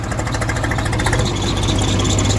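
A tractor engine runs close up, chugging with a fast, steady rhythmic knock that stays loud and even throughout.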